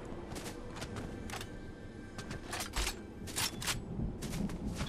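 Distant gunfire in a video game: scattered bursts of faint, far-off shots, some in quick clusters, over a steady background hum, with no voices.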